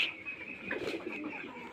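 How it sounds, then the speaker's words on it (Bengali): A female Rasgolla pigeon, milky in colour, coos softly and close by in a quiet spot, the low murmuring call carrying steadily over faint background hiss with no talk. "মিলি কালার রাসগোল্লা একটা মাদি কবুতর দেখতেছেন"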